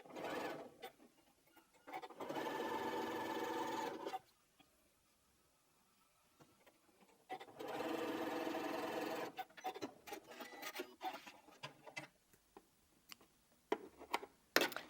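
A Janome 9480 sewing machine joins quilt patches in two steady runs of fast whirring stitching, each about two seconds long, close and clear, followed by scattered small clicks and handling noises.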